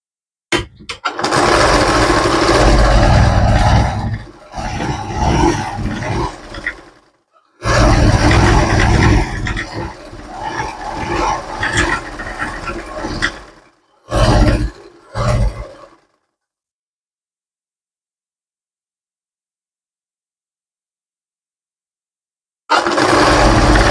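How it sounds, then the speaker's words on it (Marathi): A sewing machine stitches lining and fabric together in loud, close motor bursts that run for several seconds, stop, start again and end in short spurts, with a long silence before a final burst. "आता हे अस्तर आणि कपडा जो वरती आहे त्याला एक पूर्ण स्टिच मारून घ्यायची."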